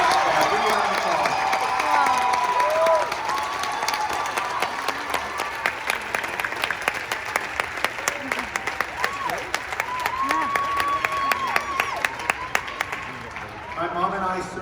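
Big Apple Circus audience applauding and cheering in the big top, a loud crowd roar of clapping that carries on for several seconds, overlapped by a voice talking, with rhythmic claps near the end.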